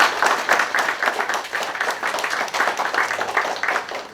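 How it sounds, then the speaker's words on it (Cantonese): An audience at a talk on plant and depot management applauds two speakers, steady close crowd clapping throughout with no speech. "俾啲掌聲嚇兩位講者。"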